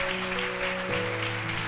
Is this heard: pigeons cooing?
no